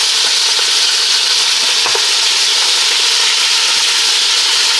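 Meat browns in a pan for an old-fashioned Italian spaghetti sauce, giving a loud, continuous sizzle and fry hiss close up, with a few faint clinks of stirring and no talking.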